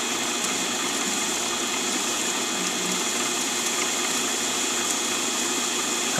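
A mini-lathe drilling a 0.5 mm hole in steel, a steady whirring motor hum with a bright continuous high whine, unchanging and fairly loud, with no voices.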